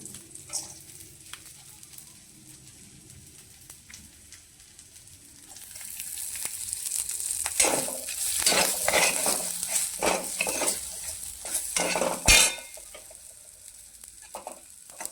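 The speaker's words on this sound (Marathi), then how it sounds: "त्यानंतर खोबरे फ्राय करून घेऊया" Grated coconut fries in a pan with tomato and onion, a quiet background hiss building into louder sizzling and scraping as a utensil stirs it, with a sharp clatter near the end.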